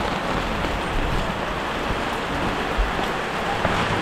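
Heavy rain pours steadily onto a hut, a dense, unbroken hiss that stays loud and close throughout with no talk.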